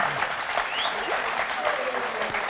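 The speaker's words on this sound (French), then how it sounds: "Vous entendez les applaudissements?" A French TV talk-show studio audience applauds with dense, even clapping that stays full and steady throughout the short stretch.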